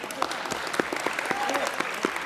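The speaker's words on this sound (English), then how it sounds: "here, quick clap" Brief, quick burst of audience applause at a ceramics conference closing ceremony, moderately loud, with scattered individual claps and voices talking over it.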